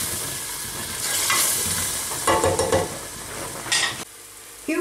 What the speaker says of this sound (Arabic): كي نفوت تقلى لك البصلة